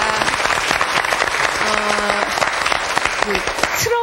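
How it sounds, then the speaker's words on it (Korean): A church congregation at a Sunday afternoon service claps to welcome a guest, a loud, close, busy burst of applause with a few voices rising over it and a short tonal sound near the end. "박수 한번 보내주시면 고맙겠습니다"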